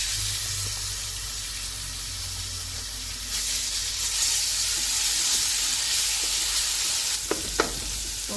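Ginger garlic paste hits hot oil left from frying onions for Hyderabadi egg biryani, and a steady loud sizzle swells partway through, with a few sharp clinks of stirring near the end and no talking.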